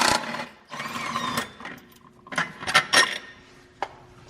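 A special puller works on the primary clutch of a Polaris RZR 1000 Turbo, giving close bursts of rapid mechanical rattling and whirring, with short metallic clanks in between and no talking.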